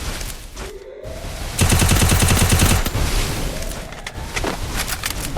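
Gunfire in a four-versus-four custom match of a shooter video game with snipers in play, a dense burst of rapid automatic shots lasting about a second, surrounded by scattered game noise.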